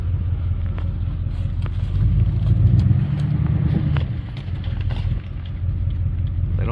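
Pickup truck driving through a snowy cattle yard, a steady low engine rumble with wind noise on the microphone, swelling somewhat louder in the middle.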